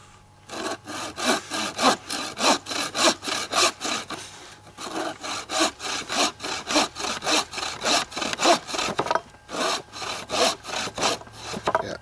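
A bow saw cuts through hard, dry wood in steady, rhythmic rasping strokes, about two per second, close and clear, with short pauses between runs and no talking.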